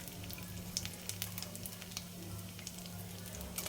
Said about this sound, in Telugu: ఆవాలు జీలకర్ర వేయాలి ఎండుమిరపకాయలు వేయాలి